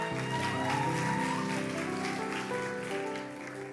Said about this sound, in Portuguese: vamos aplaudir pela vida da produção.